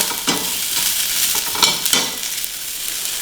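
White sesame seeds being stirred into a spinach dish frying in a pan, with a steady close sizzle broken by several scraping strokes of the spoon; no voices.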